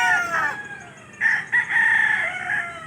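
A rooster crows loudly and close by on a one-hectare chicken farm, a long drawn-out call broken into a few bursts, with other fowl clucking faintly behind it.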